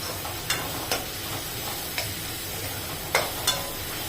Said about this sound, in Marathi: यामध्ये आपण थोडेसे धण्याचे दाणे टाकतोय बघा, अगदी थोडे टाकायचे। सारी मेथी, दाणे मेथी टाकायची थोडीशी।